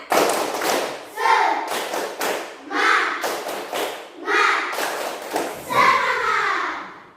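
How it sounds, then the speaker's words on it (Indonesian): A classroom of students repeats a rhythmic spirit clap, crisp synchronized claps and desk-like thumps in a set pattern interleaved with loud group chanting, close and energetic. "Sekali lagi, tepuk semangat."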